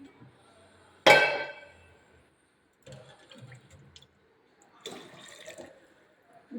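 Water is poured into a cooking pot for an arai keerai kadayal, a Tamil spinach dish, in one short splashing burst, followed by faint clinks and quiet kitchen movement, with a voice speaking at moments.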